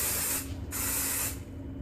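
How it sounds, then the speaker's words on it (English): Hairspray hisses from an aerosol can onto a section of hair being curled, in two short close bursts separated by a brief pause, with a faint steady hum underneath. "So I'm gonna hairspray this section."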